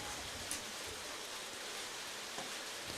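Rain falling on a wet grass baseball field during an American Legion game, a soft steady hiss of rainfall with a couple of faint thumps and a sharp knock at the very end.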